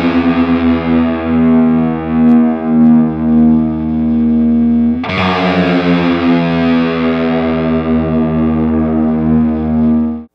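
Two overdubbed distorted electric guitars hold a bent string and slowly release it, the sustained note sliding eerily with chorus-like shimmer, then a fresh bent note is struck midway and droops again.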